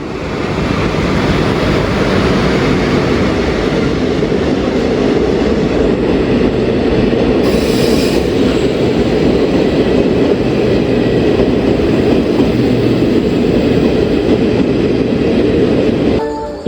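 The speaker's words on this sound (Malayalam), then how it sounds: "567-17 number Kannur Mangaluru central passenger വരുന്നുണ്ട്" A Kannur–Mangaluru Central passenger train hauled by a WDP4 diesel locomotive rumbles into a station close by, a loud steady roar of engine and rolling wheels, with a short horn blast partway through.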